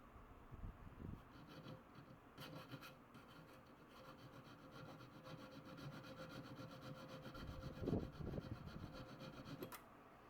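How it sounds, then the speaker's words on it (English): Quiet, repeated rasping strokes of a file against wood, close by, with an uneven rhythm and faint background hum. "So a whole bunch of sanding and filing,"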